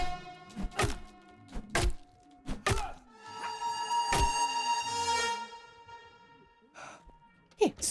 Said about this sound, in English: I think there's a zombie banging against the curtain or whatever that leads to that room